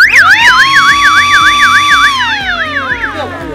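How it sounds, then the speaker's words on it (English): A loud electronic siren from a vehicle siren circuit warbles rapidly up and down, then shifts to a slower wail as the tone winds down, close and continuous. "After the siren is on, then it has an alarm."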